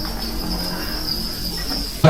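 Crickets at a Da Lat cricket farm give a dense, continuous high chirring that holds steady throughout, closing with a brief sharp knock.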